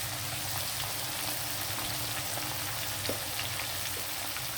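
Grated raw mango and garlic pickle cooking in oil in a kadai, giving a steady broadband sizzle with light crackling pops, close and continuous throughout with no voices.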